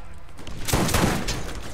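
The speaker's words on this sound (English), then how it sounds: "Hey, two shots, run away." Gunfire in the shooter video game Borderlands, a short sharp burst of a few rapid shots, loud and close, with no talk.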